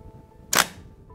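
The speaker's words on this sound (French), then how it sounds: "qui dit gros appareil moyen format et complètement manuel, dit souvent gros bruit du déclencheur." Shutter release of a Kiev 60 medium format manual camera: a single loud, sharp mechanical clack, close and alone against quiet room noise.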